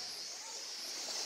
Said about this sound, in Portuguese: Olha a cigarra cantando ali, ó.